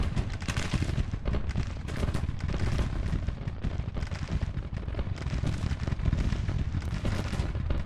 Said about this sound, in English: a constant stream of cannonballs